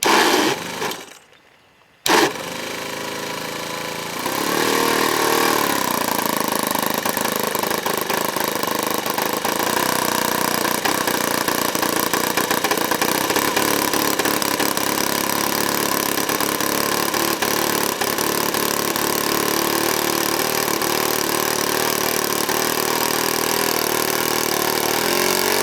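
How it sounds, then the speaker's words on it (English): A brand-new model airplane engine on a Zero warms up at idle before first flight, a loud, steady droning buzz that starts after a brief pause and holds constant throughout. "Warm up a little before he puts it on the deck. It's a brand new engine"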